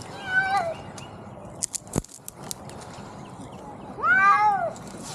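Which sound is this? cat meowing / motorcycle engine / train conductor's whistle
cat meowing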